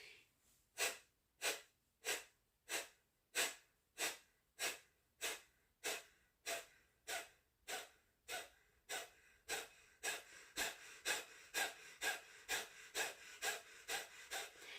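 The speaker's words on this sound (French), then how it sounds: "Et c'est une respiration qu'on va faire de manière puissante le plus que possible." Forceful rhythmic breathing from a Kundalini yoga exercise: about twenty-five sharp, powerful breaths in a steady pulse, close and clear, speeding up slightly toward the end, with no talking.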